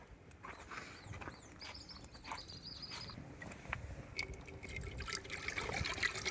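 Clean water for cooking Pongal is poured and trickles steadily into a vessel, faint and continuous, growing slightly louder toward the end, with soft outdoor background noise and no talking.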